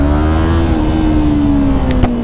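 Yamaha YZF-R3 motorcycle engine idling and pulling forward at low speed, a close, loud steady engine note with a gently falling pitch and a brief clunk near the end.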